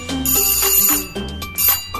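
A bell-like notification chime rings out twice in quick succession, bright and loud, with a sustained tonal ring and no talking, set against a busy background.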